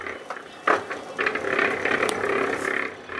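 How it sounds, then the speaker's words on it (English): A generator-powered concrete mixer runs at a cottage, its drum turning with a rattling, ratcheting mechanical clatter that swells after a sharp knock and holds steady, fairly close, with no talk. "I decide to use my generator to power the mixer"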